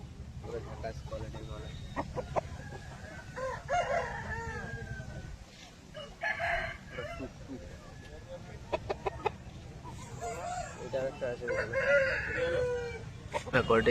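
A 15-month-old Aseel rooster weighing about 4.5 kg crows and clucks at close range in repeated bursts, with people talking between the calls.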